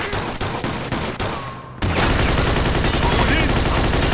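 Gunfire from the Mafia II video game during a Japanese mafia raid: a rapid run of shots leads into a dense, loud, sustained burst of automatic fire that continues to the end.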